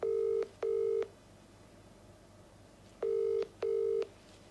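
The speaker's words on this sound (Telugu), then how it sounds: "రింగ్ అవుతోంది సార్." An outgoing telephone call ringing back: two double ring tones, a pause, then two more double tones, clear and steady over a quiet line hiss with no voices.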